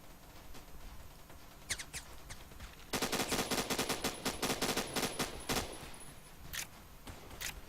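Gunfire in the Roblox shooter Phantom Forces: scattered single shots open, then a dense run of rapid automatic bursts in quick rhythm, loud and close, easing back to occasional shots at the end, with no talking.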